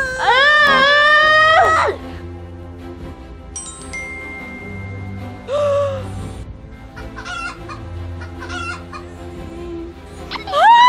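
Loud, close chicken clucks and squawks come in several bursts with quieter gaps between them.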